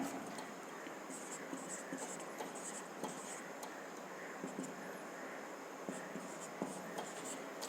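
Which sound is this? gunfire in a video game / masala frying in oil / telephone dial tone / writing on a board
writing on a board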